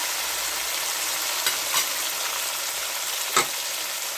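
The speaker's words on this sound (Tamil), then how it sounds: "நான் தக்காளி பழத்தை போட்டுக்கிறேன்" Tomatoes sauté in a pan of fried onions with a continuous soft sizzle, broken by a few quick stirring scrapes near the middle and again toward the end.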